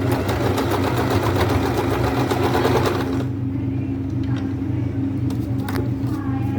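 Electric sewing machine stitching old saree fabric: a fast, steady mechanical whir with rapid needle ticking for about three seconds, then a quieter running hum with scattered clicks and handling noise.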